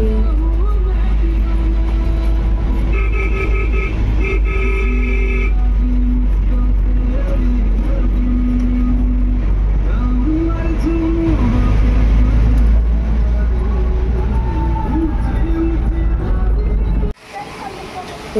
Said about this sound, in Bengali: আর আমরা উঠে পড়েছি গাড়িতে